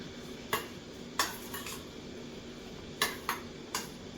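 A utensil scrapes and clinks against a pan while chicken and green peas are stirred, five short, sharp metallic knocks spaced irregularly over a quiet background.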